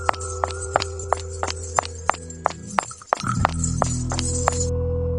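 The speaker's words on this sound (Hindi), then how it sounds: "वो कदमों की आहट लगातार मेरे पीछे ही आती रही।" Footstep sound effect with a steady clip-clop rhythm of sharp, even steps, about a dozen, loud and close. Partway through the pace breaks off into a low rumbling wash, and a few more steps follow over it.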